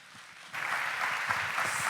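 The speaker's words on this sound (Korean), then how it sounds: "우리 목사님 나오실 때 뜨거운 박수로 환영해 주시기" A church congregation breaks into warm applause welcoming the pastor, starting abruptly after a brief quiet moment and continuing steadily, moderately loud, with some low voices underneath.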